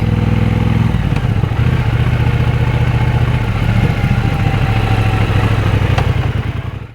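A 2023 Triumph Bonneville Bobber 1200 parallel-twin engine idling close by, a loud steady low rumble with a slight lift partway through before fading at the end.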